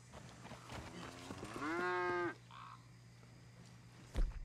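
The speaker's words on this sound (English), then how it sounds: "Hopefully these cows don't kill us." A cow in Red Dead Redemption 2 gives one long, steady moo of about half a second, fairly close and clear over a low constant game hum, with a thud near the end.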